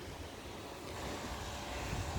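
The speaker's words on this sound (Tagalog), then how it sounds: "Peaceful pong dagat ngayon ah." Calm sea waves washing onto a nearby beach, heard as a faint, steady wash of surf with a light wind rumble and no distinct breaks.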